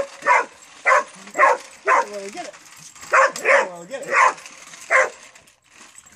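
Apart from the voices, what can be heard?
dog barking at a remote-control car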